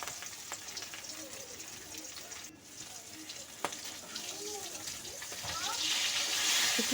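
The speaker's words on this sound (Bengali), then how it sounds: "এখন মাছটাকে উল্টে পাল্টে খুব সুন্দর করে লাল করে কিন্তু ভেজে নিতে হবে।" Rohu fish frying in hot oil, with a steady crackling sizzle that swells louder toward the end, broken by a couple of utensil clicks, while a voice talks over it.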